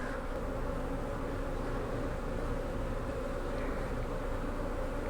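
Honey bees buzz steadily from an opened hive, a dense, close, continuous drone with no talk over it.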